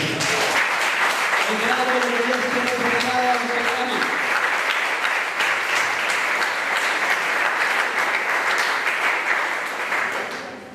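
A church congregation breaks into sustained, loud applause during a sermon, the clapping filling the whole stretch while a voice talks over it early on, then the clapping carries on alone and tapers slightly at the end.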